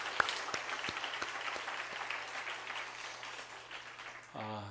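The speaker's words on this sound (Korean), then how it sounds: "우리 박수하겠습니다." A church congregation claps during a Sunday evening service, moderate applause with a few distinct claps throughout and a steady low hum beneath, ending as a voice begins to speak.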